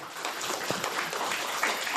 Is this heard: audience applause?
yes